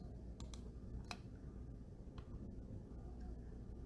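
A few sharp, quick clicks of a computer mouse or keyboard on a desk, scattered across a few seconds against a low room hum, with no one speaking.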